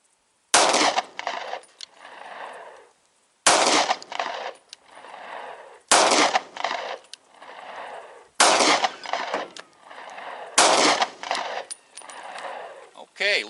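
Five 9mm Hornady 135-grain +P rounds fired from a Smith & Wesson Shield pistol at an outdoor range, five loud sharp shots spaced about two and a half seconds apart, each ringing out with a short echo.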